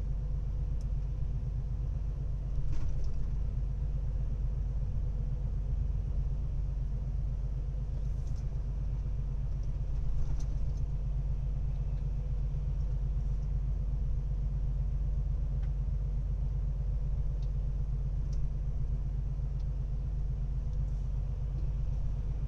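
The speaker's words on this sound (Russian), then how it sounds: "Едем мы по трассе" A car cruises along a highway in Italy, its steady low road rumble and engine drone continuous and close with no talk over it.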